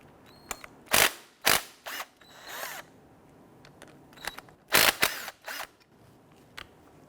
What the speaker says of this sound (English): We're going to do that by using our 14mm socket,